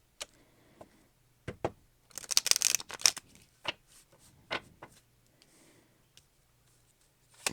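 Tarot cards are shuffled with a quick riffling flurry in the middle, surrounded by scattered taps and soft handling clicks in a quiet room.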